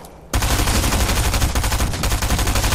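SMG gunfire in a video game, a loud, continuous rapid burst of shots beginning suddenly after a short quiet moment and sustained for about two and a half seconds with no talk.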